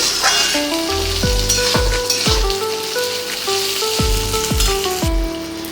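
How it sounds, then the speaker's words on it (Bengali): A salted spice paste for mutton curry fries in a pan with a loud, dense crackling sizzle, overlaid by repeated falling tonal glides, with no speech. "মশলাটা আমার খুব ভালো করে ভাজা হয়ে গেছে"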